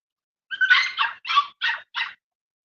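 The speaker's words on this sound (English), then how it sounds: "He's a good old dog, man." A working yard dog gives a string of five short whimpering yips and barks, close and clear against silence, with no talk over them.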